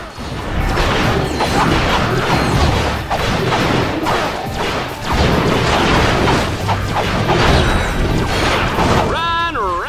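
Repeated heavy wrench melee strikes in the Ratchet: Deadlocked arena, thudding and crashing in a loud, dense barrage under game noise, with a voice talking over parts of it.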